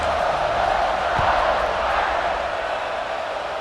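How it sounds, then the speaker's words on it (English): A large crowd roars steadily throughout a Notre Dame vs Pitt college football video game, a dense wash of voices and cheering with no pauses, loud and continuous like a packed stadium. "You think this crowd's going to get loud when their defense comes on the field?"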